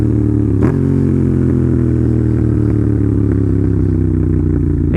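A motorcycle engine braking after a downshift, a steady close mechanical drone with rumbling low tones and a brief clack near the start, continuous and loud with no voices.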